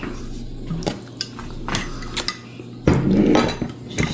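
Pork asado marinade with oyster sauce being mixed in a bowl: close, repeated utensil clinks and scrapes against the bowl with wet squishing, irregular in rhythm, with a louder flurry of stirring near the end.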